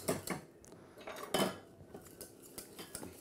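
Thick pastry cream is whisked continuously in a bowl for mille-feuille, a quiet, close run of rhythmic metallic taps and scrapes against the bowl with irregular louder strokes, no talking.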